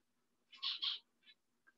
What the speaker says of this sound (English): You guys can probably hear my birds.